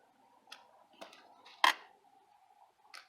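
Scissors snipping through respirator mask material, a few sparse clicking cuts with one sharper, louder snip in the middle, close and otherwise quiet.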